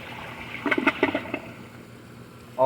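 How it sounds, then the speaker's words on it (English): A 2020 Foremost Eco To Go water-saving toilet flushes, giving a short run of faint gurgling, splashing bursts close by before the water settles into a quiet trickle. "So let's give it a second flush"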